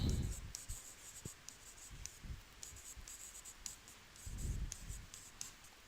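Chalk or marker scratches across a classroom board in short strokes and taps during a lesson, close and fairly quiet with brief pauses between strokes.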